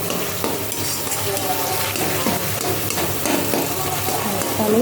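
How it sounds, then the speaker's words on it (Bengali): A spatula works through a simmering vegetable gravy in a pan, a continuous close sizzle with scraping and stirring strokes and occasional soft knocks against the metal. "এটাকে জাস্ট খুঁটির সাহায্যে একটা সুন্দরভাবে মিশিয়ে নিতে হবে"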